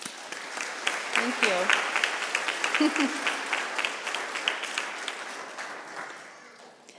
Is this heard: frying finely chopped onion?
no